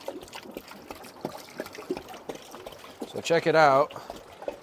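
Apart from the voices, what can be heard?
water draining out of a Pentair pool cartridge filter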